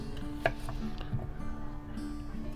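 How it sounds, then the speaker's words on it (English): Knife chopping garlic and ginger on a board aboard a narrowboat, a few soft, irregular taps close by with a steady low background hum. "I'm going to cut all this up, just enough for it to go into a blender"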